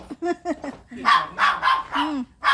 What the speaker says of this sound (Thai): ไอตัวนี้ไม่กัด เออ แค่เห่า